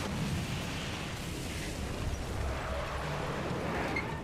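A rocket explodes in the video game Beyond: Two Souls: a low, sustained rumbling blast that rolls on for several seconds at a fairly subdued, even level, with no talking over it.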